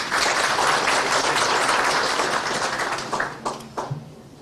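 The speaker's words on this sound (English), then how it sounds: "Give a round of applause, please." Audience applause at an international engineering seminar, a dense burst of clapping that fills the room and gradually thins out toward the end.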